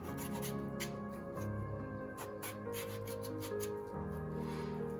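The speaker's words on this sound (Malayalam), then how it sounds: "ഇനി കുമ്പളങ്ങ മുറിച്ചിട്ട് കൊടുക്കാം." A kitchen knife works through ash gourd for a Kerala sadya dish, producing soft, close scraping and slicing sounds in short irregular bursts with quiet gaps between strokes.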